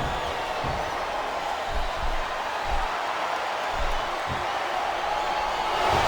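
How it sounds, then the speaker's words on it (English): A wrestling arena crowd at a WWE event roars in a continuous broad wash of cheering, fairly distant and even, with faint low thuds underneath. "Listen to the crowd, JR."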